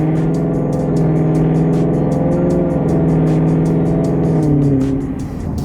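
A car fitted with a CORSA Extreme exhaust is revved to about 2,500 RPM, giving a loud, close, deep droning exhaust note that rises and holds, then drops off near the end.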